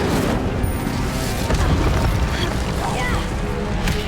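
An Incendio fire spell is cast during combat in Hogwarts Legacy, giving dense, booming bursts of roaring magical fire over continuous rumbling battle noise.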